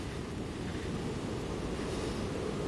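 Heavy rushing water of a monsoon waterfall at Naneghat in Maharashtra, a dense continuous roar with wind noise, steady and unbroken throughout.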